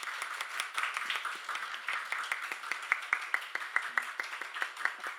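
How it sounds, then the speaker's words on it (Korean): A church congregation at a Wednesday prayer service claps together in a steady patter of applause, many hands close by, continuing evenly for several seconds. "우리 사랑과 격려의 박수 한번 뜨겁게 한번 해드리면 좋겠습니다"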